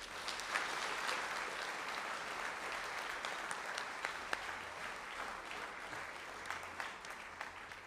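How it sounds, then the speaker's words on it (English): Audience applause at a high school athletics hall of fame induction ceremony, a continuous wash of clapping with a few sharper individual claps standing out, moderately loud and steady. "One more round of applause, everybody,"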